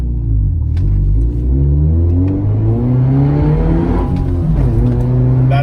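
A Subaru Impreza of 170 horsepower revs at full throttle, its loud, close engine note climbing steadily in pitch for several seconds as the car accelerates, with a brief shift-like dip near the end and no speech.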